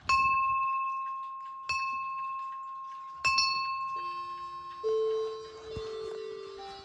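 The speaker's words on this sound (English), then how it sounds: "This right here is a bell." A bell struck three times at steady intervals, each ring bright and sustained with a long decaying tone, followed by softer lower chimes near the end, heard alone and close.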